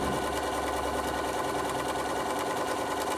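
A Bernina sewing machine stippling a quilted patchwork storage roll, a steady fast whirring needle rhythm running continuously at close range with no talk.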